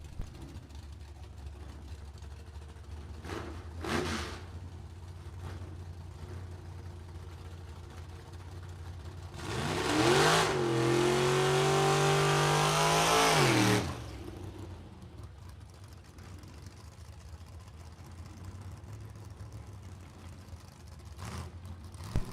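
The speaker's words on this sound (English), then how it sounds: "He's coming up now, the 1953 Chevy Bel Air" Vintage drag race cars, among them a 1953 Chevy Bel Air, idle at the track, then one roars loudly past for about four seconds with rising and falling engine pitch before fading back to a low rumble.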